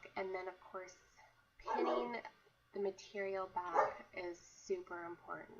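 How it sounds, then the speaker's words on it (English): A dog barks and yips intermittently in the background of a home sewing session, fairly faint and mostly buried under steady close-up talking. "excuse my dog in the background."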